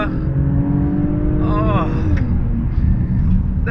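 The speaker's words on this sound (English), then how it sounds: "the exhaust opens up, the fun opens up, and wow, this car can move" Mercedes-AMG GLE 53 with its straight-six engine accelerating hard as the exhaust opens up, a loud steady engine roar with a rising tone, while a voice briefly exclaims over it.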